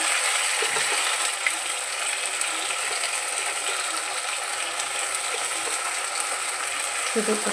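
Oil bubbles and crackles in a pan while spices fry for doi katla, a steady bright sizzling hiss close by, with a few faint clicks and knocks and no talking.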